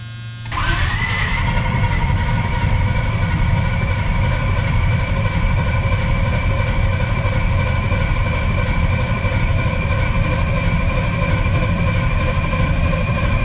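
A 1980 Chevrolet C10 Squarebody's carbureted engine catches within the first second and settles into a loud, steady, rumbling run that continues without a break.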